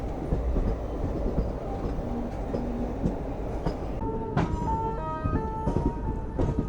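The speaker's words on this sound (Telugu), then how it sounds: "మన ట్రైన్ ప్లాట్ఫామ్ నెంబర్ 5కి వెళ్తుందండి" A passenger train rolls along a station platform on the Ratnachal Express route, a steady rumble of wheels and carriages with metallic clanks and a few brief brake squeals toward the end, with no voices.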